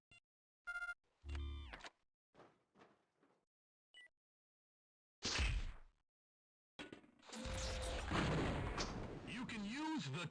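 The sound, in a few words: grenade launcher explosions in video game Half-Life Gunman Chronicles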